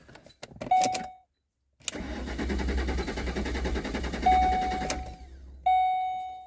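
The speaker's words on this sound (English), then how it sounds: "she's crank no start here" A car engine cranks repeatedly without catching, with a warning chime dinging between attempts and short pauses of near silence, the starter whirring loudly and close.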